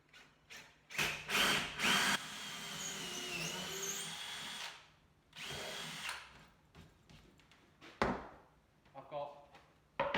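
A power drill fitted with a high-speed steel bit whirs in several bursts of varying length, close and loud, with pauses and a person talking between runs.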